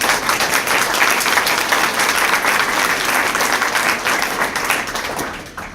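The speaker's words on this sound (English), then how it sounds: "Let's have another round of applause." Loud, sustained round of audience applause at a business awards ceremony, dense even clapping from a large room that holds steady and then tapers off at the end.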